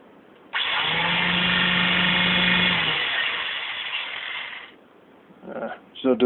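Cordless sander fitted with Velcro-backed pads runs with a steady, loud whir for about three and a half seconds, then winds down. A few brief knocks follow near the end.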